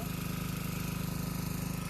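An engine runs steadily nearby, its low rhythmic throb pulsing evenly throughout with no voices over it.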